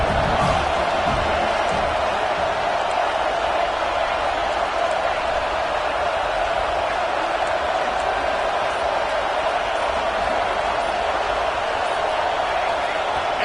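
Stadium crowd roaring at an American football game, a dense, steady wall of noise that stays loud and unbroken throughout, with faint commentary voices mixed beneath.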